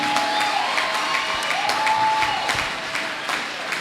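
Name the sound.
church congregation applauding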